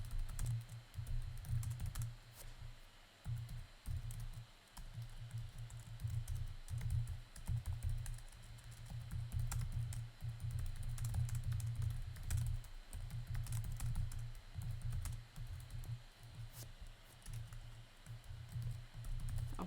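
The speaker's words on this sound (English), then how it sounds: "I'm just typing in." Quick, light clatter of fingers typing on a computer keyboard, irregular bursts of key taps running continuously at a low, close level.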